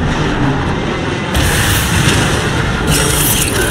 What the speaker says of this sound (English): there are three warp cannons shelling the Ark